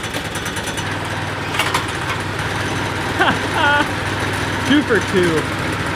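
A four-engine all-wheel-drive go-kart, just revived and fuelled with ethanol-free gas, runs after its first pull: a steady, rough engine drone with a low hum continues throughout while people talk and exclaim over it.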